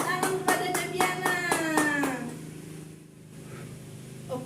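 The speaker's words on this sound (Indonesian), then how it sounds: "Beri tepuk tangan kepada Deviana." Elementary school students in a classroom clap in unison for a classmate, a run of about eight rhythmic, evenly spaced group claps over a humming background, fading into quieter room noise.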